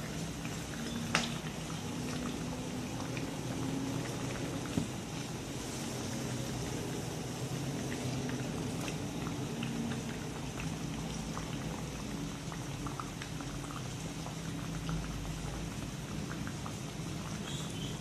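Stuffed bread pakoda deep-frying in hot oil gives a steady, dense bubbling crackle like light rain, constant and close, with a couple of faint clicks and no voices.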